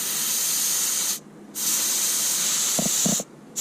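Air hisses from a leaking tire valve stem in two loud, close bursts of broad steady hiss, broken by short pauses with a few faint clicks.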